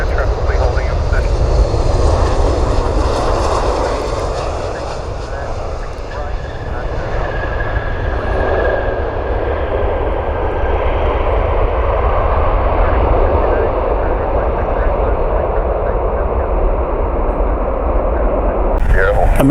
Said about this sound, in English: United Flight 1704, it's a 737 MAX 9 inbound from Orlando.